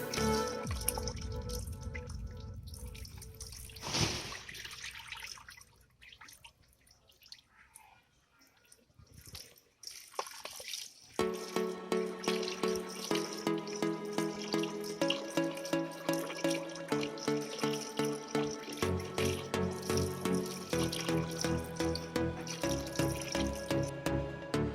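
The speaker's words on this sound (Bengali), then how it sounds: "এই ডালটিকেও এখন ভালো করে ধুয়ে নেব।" Masoor dal lentils being washed by hand in water, with dripping and sloshing splashes, first irregular and then settling into a steady repeated rhythm of swishing and pouring, close up with no talk.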